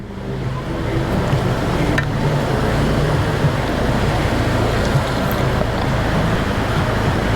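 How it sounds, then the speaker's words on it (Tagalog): A continuous heavy roar of strong crashing surf at a beach in Tagkawayan, broad and steady, with wind rumbling across the microphone throughout. "Ayun o, lakas ng alon"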